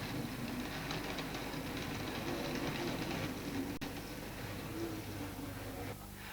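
A model train runs along a model of the Bluebell branch line with a continuous faint rumbling clatter. The sound is steady throughout, with a sharp click near the middle and a slight drop in level at the end.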